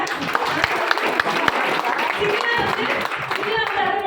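An audience at a business talk applauds with steady, dense clapping throughout, loud and close, while a voice speaks over it.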